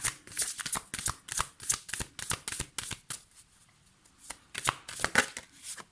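Tarot cards being shuffled by hand, rapid crisp riffling bursts with a brief pause in the middle before the shuffling resumes, close and fairly quiet.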